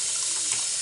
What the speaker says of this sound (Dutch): de kraan die loopt